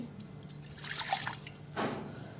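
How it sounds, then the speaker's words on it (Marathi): Half a glass of milk is poured into a cooking pot, a close liquid splash and trickle in two short bursts, with no voices over it. "अर्धा पेला मी दूध घेतलेलं आहे तर एका ह्या पातेल्यामध्ये मी आता हे ओतते"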